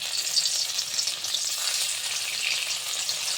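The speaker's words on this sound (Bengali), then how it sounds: "পনিরটা ভাজার সময়" Paneer frying in white oil in a hot wok, a steady, dense sizzle that carries on evenly throughout at close range with no speech.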